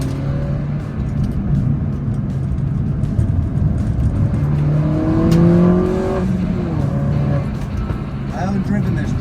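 A car on its first track day at Llandow Circuit drifts round the corners, its engine revving and rising in pitch near the microphone, with a driver talking over the steady roar.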